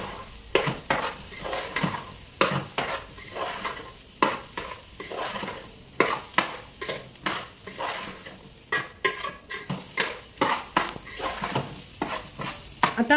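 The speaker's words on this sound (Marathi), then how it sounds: "मटार टाकून मी भात परतून घेते." Rice with green peas being stir-fried in a pan for masala bhat, with repeated scraping stirs of a utensil against the pan over a steady close sizzle, no talking.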